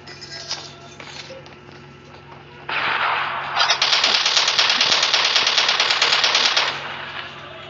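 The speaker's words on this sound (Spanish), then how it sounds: "¿Están disparando?" Rapid automatic gunfire in the Call of Duty battle royale video game, a dense burst starting partway in and rattling on for several seconds at fairly close range, with no talk over it.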